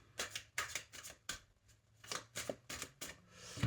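Tarot cards are shuffled by hand in quick bursts of riffling and slapping at close range, with short pauses between bursts.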